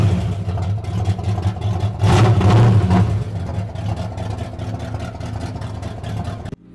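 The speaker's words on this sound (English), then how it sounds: "Yeah, straight pipes is pretty noisy." Honda Civic EP3 with straight-pipe exhaust, a loud, close engine note that surges in a sharp rev around two seconds, then settles to a rough, steady drone before cutting off.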